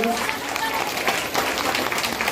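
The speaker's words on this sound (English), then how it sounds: "One more big round of applause for all of our dynamic dolphins." A crowd of parents and teachers claps steadily at a 2nd and 3rd grade school awards event, continuous dense applause with scattered cheering and voices mixed in.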